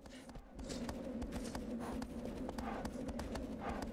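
A horse gallops steadily through a desert in Shadow of the Colossus, its hoofbeats a quick, even clip-clop that carries close and moderately loud from start to finish, with no talk over it.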